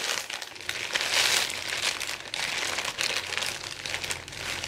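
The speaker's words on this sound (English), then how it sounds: "And then we've got a plastic bag." A plastic bag from a shipped package crinkles continuously at close range as it is handled and unpacked, a dense, rustling crackle with no talking.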